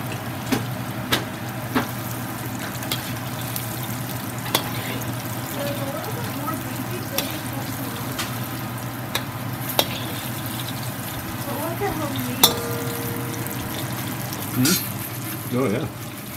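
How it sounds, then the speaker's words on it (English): Steady crackling sizzle of squirrel meat deep frying in hot vegetable oil, with occasional sharper pops and clinks throughout, close by. "Okay, so now it's time to do the deep frying."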